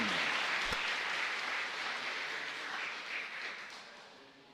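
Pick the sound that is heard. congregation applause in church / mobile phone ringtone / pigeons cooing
congregation applause in church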